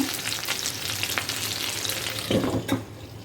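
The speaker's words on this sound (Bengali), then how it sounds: "এরকম ঝাটকা মাছ ফ্রাইটাকে অল্প আঁচে ঢাকনা দিয়ে সুন্দর করে ভাজি করতে হয়" Small jatka hilsa fish fry in oil in a pan over low heat, giving a close, continuous sizzle and crackle with brief louder spatters and a couple of utensil scrapes, no talking.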